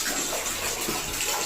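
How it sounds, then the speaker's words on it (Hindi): Water running steadily from a tap into a bathroom tub in a home, a continuous broadband hiss and splash heard up close with no voices over it. "और बाथरूम में चला रखा है पानी"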